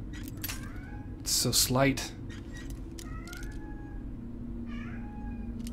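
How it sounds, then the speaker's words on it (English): A cat meows several times in the background under a steady low hum, with a louder drawn-out cry in the middle and a person speaking briefly. "Maybe you can hear my cat crying in the background."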